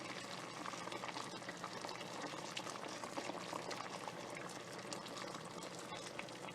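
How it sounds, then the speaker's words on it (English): Hot water going into a pot of vegetables for butternut squash soup, a continuous bubbling, sputtering liquid sound, fairly quiet and steady throughout without speech. "I'm going to add the hot water in it"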